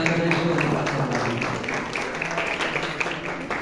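Audience applause for a speaker at a university seminar, a steady wash of clapping over the whole stretch, moderately loud, with some voices murmuring underneath.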